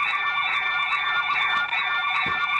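A Commax hospital nurse call system sounds its emergency alarm, a steady, loud, continuous electronic tone with a wavering siren-like quality and no talk over it.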